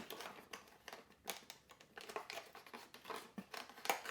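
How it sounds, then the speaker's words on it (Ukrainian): A small plastic packet crinkles in hand, quiet and close, in irregular bursts of crisp rustling and crackling. "Щось не можу зрозуміти, якийсь пакетик."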